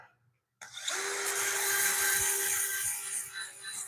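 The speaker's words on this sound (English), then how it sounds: "We're going to do the kind of sanding we do on a lathe" A wooden bowl is sanded on a lathe: after a moment of quiet, the machine spins up to a steady high whine with a sustained abrasive hiss, close and continuous.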